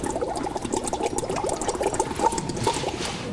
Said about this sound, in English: What I'm going to do now is use the straw to blow into the water.